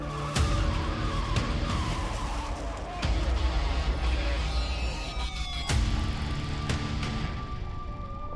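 Lamborghini supercar skids and loses control mid-drift before crashing into spectators at a car meet; broad roaring tire and engine noise runs throughout with sharp impact-like bursts near three and six seconds.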